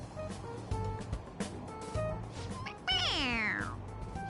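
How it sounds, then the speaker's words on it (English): A toy cat in a video game meows when its head is pressed, giving one clear, rising-and-falling meow over low background noise after some soft clicks and rustles. "It meows when you press on its head."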